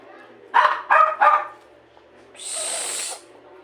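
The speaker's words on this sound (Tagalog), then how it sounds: "Ingay ng aso ko" A dog barks three times in quick succession nearby, followed by a brief hissing rush of noise.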